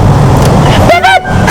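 A car horn on a Manila street gives two short loud toots close by, standing out over engine rumble and traffic noise, with a brief voice in the background.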